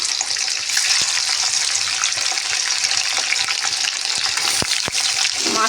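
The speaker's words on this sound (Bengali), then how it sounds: "এদিকে তেল গরম হয়ে গেছে প্রথমে ইলিশ মাছের মুড়োগুলো ভেজে নেবো" Hilsa fish heads fry in hot oil with a loud, continuous hissing sizzle and a few sharp pops and crackles near the end.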